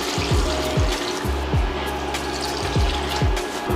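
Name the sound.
water poured into pot of sauteed vegetables and beans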